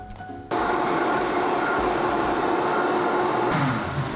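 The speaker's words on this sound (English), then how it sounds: "we have all this inside of our blender. And now we're gonna blend this up." A blender whirring through blueberry muffin batter ingredients, switching on abruptly into a loud, steady motor roar that holds for about three seconds and then starts to wind down.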